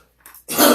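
An elderly man's cough: a faint throat rasp, then one loud, harsh, close-up hack with a broad burst, heard alone with no talking.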